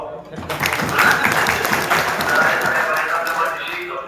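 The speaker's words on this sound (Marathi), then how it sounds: "टाळ्या वाजवा" Audience at a political gathering breaking into applause, dense continuous clapping close by with voices talking and calling over it throughout.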